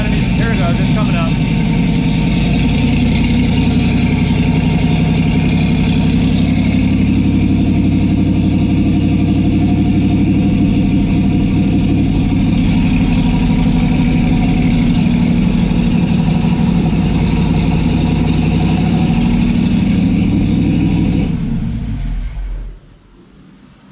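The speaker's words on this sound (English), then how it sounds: "when I put my thumb on that butterfly, the idle came down" A car engine idles loudly and steadily up close for about twenty seconds, then its idle drops away sharply as the throttle butterfly is closed by hand.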